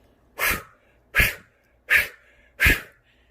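Four forceful yoga exhalations, each pushed out sharply by the abdomen, come as short, loud, breathy bursts at an even rhythm, roughly one every 0.7 seconds, with quiet gaps between.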